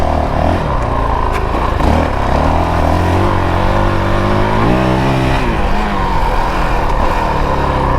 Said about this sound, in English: And you hear me blipping the throttle.